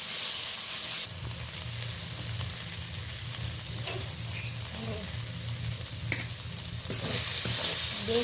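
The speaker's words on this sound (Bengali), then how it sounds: "আধা চামচ আদা বাটাটা 2 মিনিট আমি উল্টে পাল্টে পেঁয়াজের সাথে ভালো করে নেড়ে নেব।" Onions and half a spoon of ginger paste fry and sizzle in a pan while being stirred and turned for a couple of minutes, a steady close hiss with scraping stirs and brief clatter, no voices.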